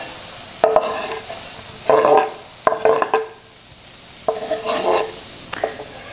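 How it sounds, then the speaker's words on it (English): Bursts of sizzling and crackling as onions hit a hot, dry pan with no oil, several short frying spurts with pauses between, close and fairly loud. "it makes that sizzling noise"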